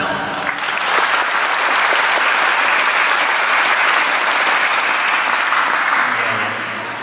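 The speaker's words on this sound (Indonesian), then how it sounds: "Tepuk tangan dong" An audience applauds loudly with dense, sustained clapping that holds steady for several seconds before tapering off at the end.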